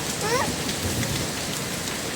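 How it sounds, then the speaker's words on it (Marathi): Heavy rain pours steadily around an auto rickshaw, a dense even hiss of drops on surfaces close by, with a brief high whine early on. "आपण पावसामध्ये भिजू भिजू आलो"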